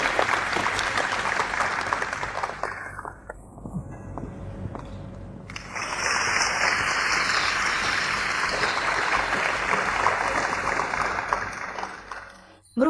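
Steady applause from a large crowd fills the room, dipping briefly partway through before swelling again and fading out near the end.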